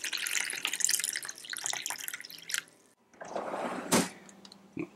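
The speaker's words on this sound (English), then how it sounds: "So fill this container with water." Tap water runs into a container, with splashing and trickling that stops briefly, then resumes with a fuller pour and a clunk near the end.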